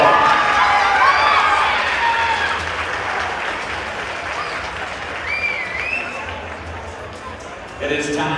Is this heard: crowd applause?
yes